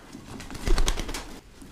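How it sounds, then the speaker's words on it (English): Pigeons coo inside a loft, soft throaty calls layered under a few flutters of wings, close and steady with no talking. "I'm getting ready to release these birds that we traded out."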